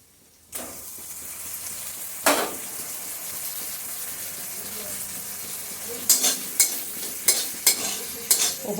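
Fish oil sizzles into browned frying onions in a home kitchen pan for a Bengali eggplant dish, a steady broadband frying hiss rising after a soft start, with several sharp clinks and stirring scrapes near the end.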